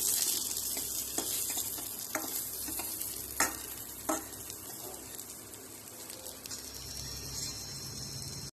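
Mustard seeds, cumin, dried red chilli and sliced onion frying in hot oil as a tempering, giving a dense, continuous crackle and hiss up close, with a few faint knocks and stirring scrapes and no voices.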